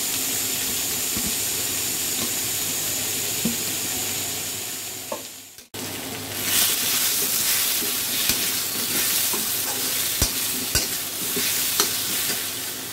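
Potatoes and browned onions frying with garlic paste in a pan for a jackfruit and prawn curry, with steady sizzle and repeated scraping stirs and clacks of a spatula, loud and close, no talking.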